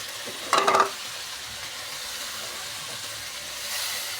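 Small freshwater marsh fish hit a pan of frying pumpkin with a short, loud burst of sizzle lasting under half a second, then settle into a faint steady frying hiss.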